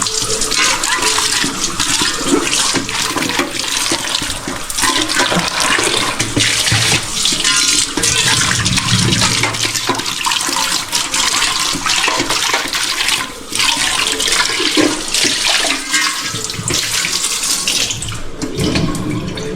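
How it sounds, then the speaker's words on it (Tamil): Water pours and runs steadily at close range on a farm, a continuous loud splashing rush that lasts throughout with no voices. "கொஞ்ச நேரம் தண்ணி ஊற்றிட்டோம்"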